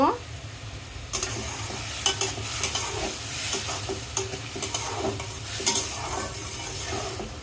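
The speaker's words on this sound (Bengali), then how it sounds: "এখন একটু কষিয়ে নিব" Prawns sauté in a pan with turmeric and chili powder and a little water, a steady close sizzle with scraping stir strokes throughout and no talking.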